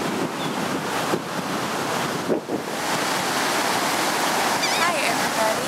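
Ocean surf and gusty wind roll steadily on a misty beach, a broad continuous roar with a few wind bumps on the microphone and faint voices underneath.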